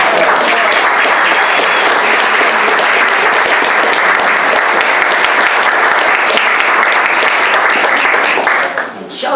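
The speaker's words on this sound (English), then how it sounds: "we should give them a big round of applause" Audience applause at a 40th anniversary celebration for a poetry center, a loud dense wash of many hands clapping continuously before tapering off at the end.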